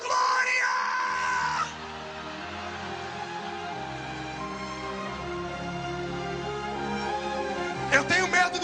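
A church congregation at an evangelical sermon shouts glory together, a loud sustained roar of many voices that swells, dips slightly, then continues as a dense crowd cheer with a few sharper cries near the end.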